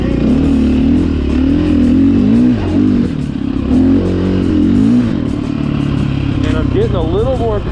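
KTM 500 EXC dirt bike ridden on a desert trail, the engine droning loudly and continuously with rising and falling revs as the rider works the throttle, while someone talks over the motor.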